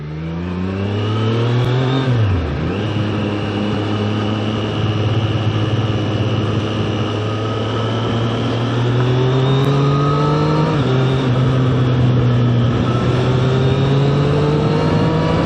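Motorbike engine revving and riding out toward Derwent Reservoir, a loud, close, sustained engine drone that rises and falls through gear changes over steady wind and road noise, with no voices.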